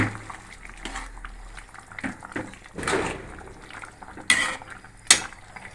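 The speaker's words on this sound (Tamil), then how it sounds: "கரண்டி ஆட்டி நல்லா மிக்ஸ் பண்ணிங்க" Ladle stirring poori potato curry (kizhangu) in a pot, with clinks and scrapes of metal against the vessel over a soft bubbling background, including a couple of sharper knocks near the end.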